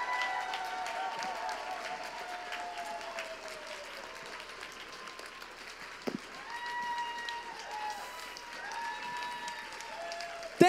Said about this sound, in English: Please, for me, give them one last huge round of applause.